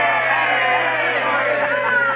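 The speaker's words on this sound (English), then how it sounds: "let's have a cheer, folks" A studio audience on an old radio comedy broadcast gives a steady, dense cheer and roar of voices, continuous and fairly loud throughout with a constant low hum underneath.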